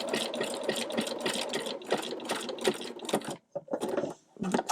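A sewing machine stitches a dense satin stitch along the edge of fabric, needle rattling in fast, even bursts, close and loud, with brief pauses before it starts up again.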